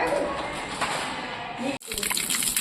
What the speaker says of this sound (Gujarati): હવે આવે પાણી